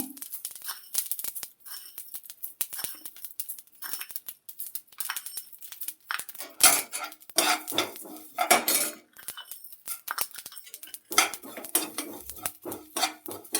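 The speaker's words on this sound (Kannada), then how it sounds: "ಈಗ ಒಂದು ಹತ್ತು ಚಮಚದಷ್ಟು ಧನಿಯಾ ಹಾಕ್ತಾ ಇದ್ದೀನಿ" Coriander seeds are spooned into a pan for dry roasting over a medium flame for homemade Malnad-style saaru powder: dense metallic clinks and scrapes of a spoon against cookware, with seeds rattling in bursts, close and fairly loud, with no talking.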